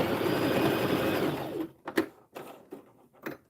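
A sewing machine back stitches a fleece hat with a steady, close whir for about a second and a half, then stops, leaving a few soft handling clicks and bumps.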